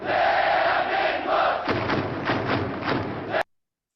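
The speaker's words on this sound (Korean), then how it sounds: "붉은 악마 응원. 여러분들도 따라해보세요. 먼저 박수 5번." A Korean forum audience joins the Red Devils football cheer, first a loud crowd chant, then a run of rhythmic, evenly spaced group claps before the sound cuts off sharply.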